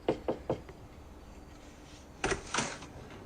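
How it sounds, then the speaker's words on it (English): Knocking on a door in a TV drama scene: a quick burst of three sharp raps, a pause, then two heavier, louder knocks near the end, fairly close with no talk over them. "Now she knocks?"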